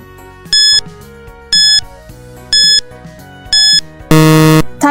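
A quiz countdown timer sounds four short, evenly spaced electronic beeps followed by a longer, louder buzzing alarm tone, all with no voices.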